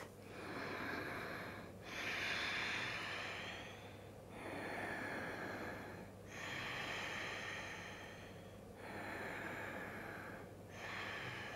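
Slow, deep breaths during a yoga triangle pose in a vinyasa flow class, with long audible inhales and exhales alternating in a steady rhythm, close and soft, with no talking.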